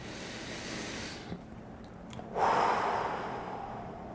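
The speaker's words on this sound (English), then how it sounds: "Close your eyes for just a moment and take a deep breath in." A deep breath in during a guided breathing meditation: a soft, steady inhalation, a brief pause, then a fuller, louder airy breath, close and alone with no talk.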